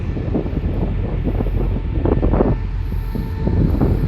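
A Thai railway train with an SRT Prestige car rumbles past nearby, with rattling wheels and rushing wind noise throughout.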